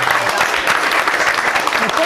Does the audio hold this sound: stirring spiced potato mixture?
no